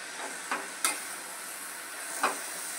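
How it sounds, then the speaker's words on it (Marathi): Radish leaf greens being sautéed in a kadhai, a soft steady sizzle with a few quick scraping stirs of a spatula, faint and close. "आता आपण चांगली परतून घेऊया आणि थोडंसं झाकण देऊया।"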